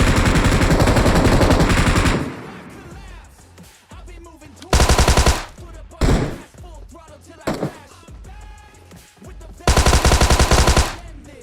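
Loud bursts of automatic gunfire in the mobile battle-royale game PUBG Mobile, played on an emulator: a long sustained volley, then several short sharp bursts separated by quieter game sounds.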